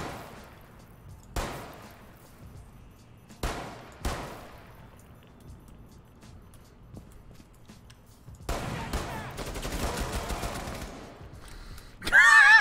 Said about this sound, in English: they start shooting at us through the window here